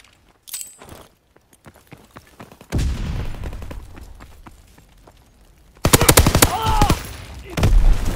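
Call of Duty: WWII gunfire crackles in scattered shots and rapid bursts, growing denser and louder toward the end, with brief voices mixed in.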